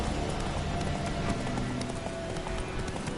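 Roach the horse gallops in The Witcher 3, a rapid, steady clip-clop of hooves close up over a dense game soundscape, continuous for a few seconds.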